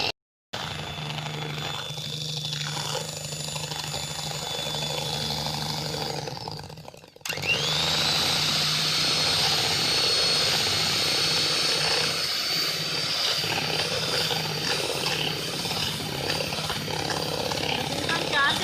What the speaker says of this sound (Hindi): 1 कप व्हिपिंग क्रीम ले लेंगे और इसे व्हिप कर लेंगे।